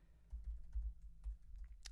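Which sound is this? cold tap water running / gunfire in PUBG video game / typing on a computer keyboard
typing on a computer keyboard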